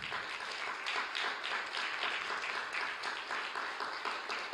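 A church congregation applauds Jesus with dense, steady clapping that fills the room, fairly close and sustained throughout.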